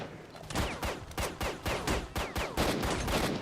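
A rapid, loud series of gunshots in a STALKER: Shadow of Chernobyl firefight, sharp cracks fired in quick succession over roughly three seconds, close and dense.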